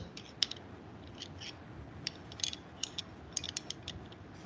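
A Swagelok tube fitting is tightened with a wrench in a quiet room, giving a series of sharp metallic clicks and ratcheting ticks, irregularly spaced and close, over a low steady background hum.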